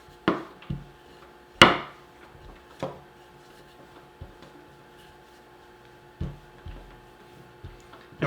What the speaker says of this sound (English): we'll put down some flour. And we're going to roll it out